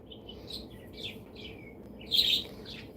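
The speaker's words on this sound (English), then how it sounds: "Lots of bird sounds." Pet birds chirp indoors, with birds outside joining in, giving scattered short tweets and calls at moderate distance and one louder burst of chirping near the end.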